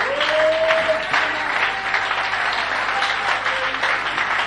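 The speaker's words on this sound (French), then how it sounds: "Est-ce qu'on peut l'acclamer?" A church congregation applauds the pastor, steady loud clapping from a full room lasting the whole stretch, with a held tone and faint voices beneath.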